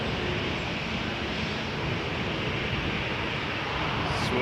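A Swoop airliner at Toronto Pearson Airport at night, heard as a continuous broadband jet roar that stays loud and steady throughout, with no voices.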